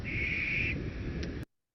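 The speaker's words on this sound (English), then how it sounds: "And next one is a barn owl." A barn owl gives a single drawn-out hissing screech that fades after about a second, with faint low rumble beneath and a brief higher note near the end.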